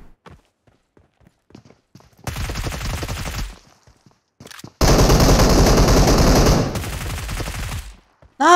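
Bursts of automatic gunfire and bullet impacts in the PUBG Mobile battle-royale game, a short volley around two seconds in and then a longer, louder sustained burst, with quiet gaps and faint footsteps between.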